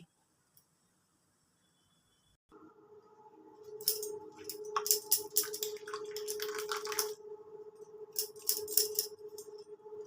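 Freshly made chhana curdled with vinegar is poured out, starting after a quiet stretch with a steady watery stream, then splashing and pattering, close and moderately loud with bursts of dripping.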